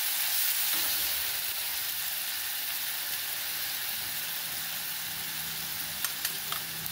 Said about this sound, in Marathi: छानपैकी हा ठेचा आपल्याला परतून घ्यायचा आहे